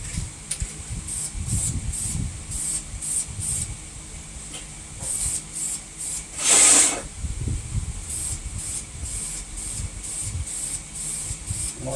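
Two-stage spray paint goes onto a Ford 302 engine block in a back yard, laid on as a thin first coat. The spray comes in short, repeated hissing bursts, with one longer louder blast midway and light handling noises between passes.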